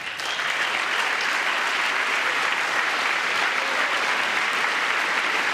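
Members of Congress applaud at the State of the Union, a steady, loud wash of many hands clapping in a large chamber, sustained evenly without pause.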